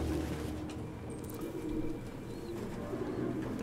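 Pigeons coo softly in a run-down setting inside the Detroit: Become Human video game, with a steady low murmur of cooing beneath continuous ambient background noise.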